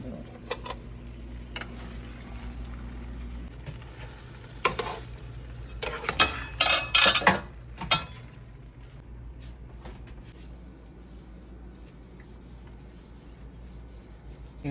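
Chicken fajita being stirred in a pan, with soft scraping and rubbing of a utensil against the metal and a few louder clattering scrapes in the middle, over a low background hum.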